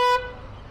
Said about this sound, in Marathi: खूप मजा येते मला हॉर्न वाजवायला.